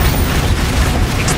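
A Confringo spell explosion in the video game Hogwarts Legacy, a loud, dense broadband blast with heavy low rumble that holds steady through the short span, with no talking.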